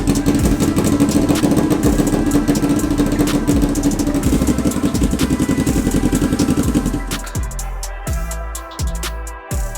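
A Suzuki GS250 motorcycle engine runs loudly and close with a steady, even idle, then drops off near the end to a few uneven, sputtering beats and pauses.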